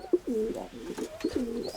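Pigeons cooing inside a backyard pigeon loft holding about six pairs, two close, soft rolling coos with a short sharp note at the start and faint chirps between.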